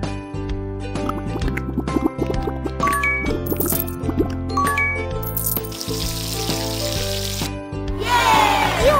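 Water runs and splashes during handwashing in a newborn unicorn pony care video game, with dripping and squishy bubbling effects over steady cheerful music and no voices.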